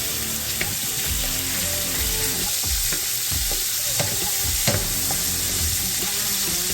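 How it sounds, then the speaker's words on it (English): Meat browns in a hot skillet for a spicy three-bean, three-meat chili, a constant sizzle broken by repeated scraping stirs and utensil knocks against the pan, close and fairly loud, with no talking. "we're going to let that kind of make its love, make its contact with the skillet and fry this up"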